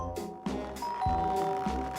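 A doorbell rings in a cartoon scene, a repeated bright chiming ding-dong with ringing tones that linger, loud and close, and some voice in the background.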